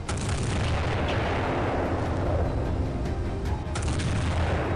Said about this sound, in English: These 2 Navy ships start firing from both sides, basically surrounding the Bismarck.